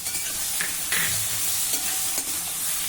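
Whole spice masala of black pepper, cardamom and cinnamon sautéed in a pan over medium heat, a soft continuous sizzle broken by a few scraping stirs of a spoon, close and alone without talk.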